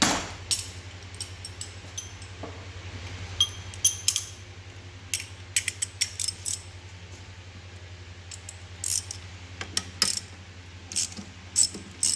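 A ratchet loosens bolts on the gearbox mount of a Ford Focus RS mk2, giving bursts of sharp rapid clicking and metallic clinks over a low steady hum, close by.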